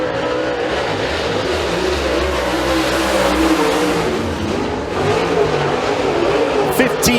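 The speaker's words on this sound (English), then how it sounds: "Late arrival here from Sarver, Pennsylvania in the 1C, the Cochran car" Super late model race car engine roaring through a qualifying lap at Eriez Speedway, a loud sustained drone that shifts pitch as the car passes, with crowd and track noise around it.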